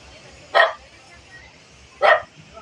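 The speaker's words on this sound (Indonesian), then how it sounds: "Weh, ada guguk tuh." Two sharp dog barks spaced about a second and a half apart, heard near a parked legacy bus during a walkaround, over a quiet low background hum.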